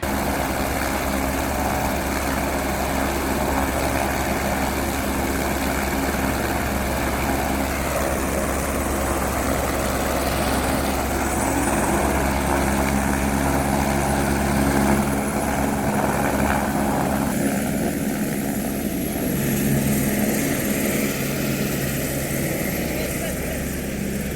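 Helicopter flying at Ghangariya: a loud, steady rotor and engine roar that fills the whole stretch and eases slightly toward the end, with voices faintly under it.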